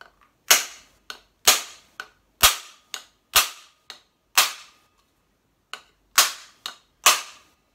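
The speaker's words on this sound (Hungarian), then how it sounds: "megütni ezzel az RCBS kalapáccsal fogom" Repeated hammer blows from an RCBS hammer strike a Sig Sauer P320 pistol, about a dozen sharp, loud metallic cracks in irregular bursts, each ringing briefly before fading, with short pauses between groups.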